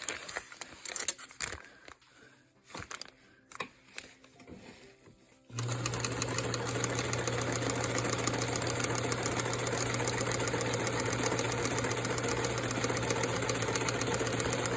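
A sewing machine stitches appliqué in a steady, rapid, close mechanical hum that runs continuously after a stretch of quieter handling noises and clicks.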